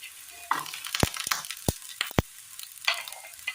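Sliced green chillies go into a pan for a Kerala-style curry, giving a quiet sizzle broken by several sharp, close clinks and scrapes of a utensil against the pan, with no talking.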